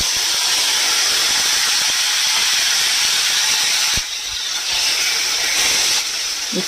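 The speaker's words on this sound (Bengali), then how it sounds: "এবারে দিয়ে দেবো টমেটোগুলো।" Tomatoes drop into a pan of hot oil with fennel seeds and dried red chillies, raising a loud, continuous hiss of sizzling with a brief clunk near the middle and steady frying throughout.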